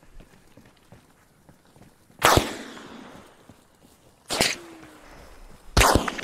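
Gunshots in the military video game ARMA Reforger, three sharp loud reports spaced a couple of seconds apart, each with a short echoing tail, over faint background rustle and movement.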